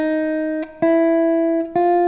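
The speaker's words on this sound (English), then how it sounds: "We'll plug into an amp and play each note." Clean, sustained electric guitar notes ring through an amp, three plucked tones in succession, each held with a bright, steady pitch and slight attack.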